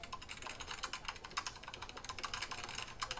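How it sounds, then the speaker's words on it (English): Rapid keyboard typing clatters in quick, irregular bursts of key clicks, close and fairly faint, with no voices. "What are you typing?"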